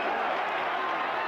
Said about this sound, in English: The chant of Anjo from the crowd in Yokohama.